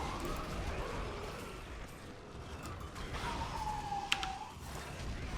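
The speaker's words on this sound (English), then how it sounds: "Apologies if you can hear that siren in the background." Police siren drifting in from outside through an open window, faint and distant with a rising-and-falling wail under game sound effects, most noticeable toward the end.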